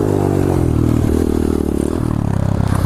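Pit bike held in a wheelie on a road, its small engine buzzing loud and close with a steady throbbing note and slight pitch changes throughout.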